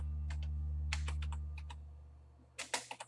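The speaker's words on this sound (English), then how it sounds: "we are going to type my name" Computer keyboard being typed on, a few quick, sharp clicks in short bursts, faint over a low hum.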